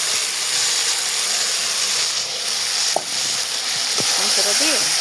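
Meat sizzles as it fries in a spice paste for biryani, a steady close hiss of frying with occasional stirring scrapes, while someone talks over it.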